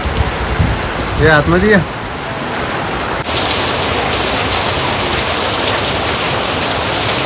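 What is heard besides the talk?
heavy rain starting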